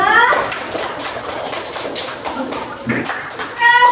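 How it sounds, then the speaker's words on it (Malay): Applause from a classroom of students, a steady patter of many hands clapping with some louder taps and murmuring voices underneath. "Jadi bagi tepukan untuk awak semua."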